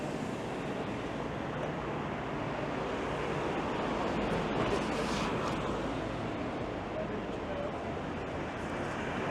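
Steady, dense rushing noise fills the whole stretch, a strong wind roaring and buffeting the microphone with no pauses or voices.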